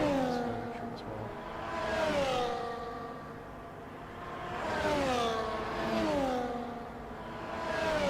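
Race cars circling a track in a sim racing game, engine notes sweeping up and down in pitch as cars accelerate and pass, with a voice talking over the continuous whine.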